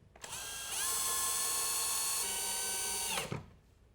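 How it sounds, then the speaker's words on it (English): A power drill or driver runs screws into an electrical wall box to mount a Jasco Z-Wave in-wall smart fan control: a single steady whirring run of about three seconds, close, rising briefly and then stopping. "Use the screws provided to secure the device into the box."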